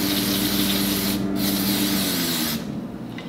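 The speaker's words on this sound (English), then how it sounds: "A little brake clean here." Brake cleaner hisses in a loud continuous spray onto a 6R80 transmission part, pausing briefly partway, then cutting off before the end.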